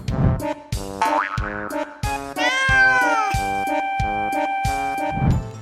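Cartoonish cat meows from the video game Persona 5 Royal, several rising and falling calls over a steady rhythmic game music beat, loud and close.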